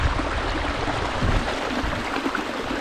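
Meltwater stream running across the Mount Adams glacier, a close, loud, continuous gurgling rush of water with no voices.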